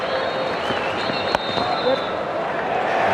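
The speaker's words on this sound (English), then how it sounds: "Big cheer goes up here." A large crowd cheers and applauds at a cricket match at the SCG in Sydney, a steady roar of noise with one sharp crack midway.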